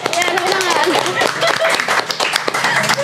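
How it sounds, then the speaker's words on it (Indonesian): A studio audience at an Indonesian comedy talk show bursts into quick, energetic clapping that stays close and loud, with voices talking and laughing over it throughout. "Ya, tepuk tangan"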